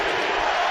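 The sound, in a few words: basketball arena crowd cheering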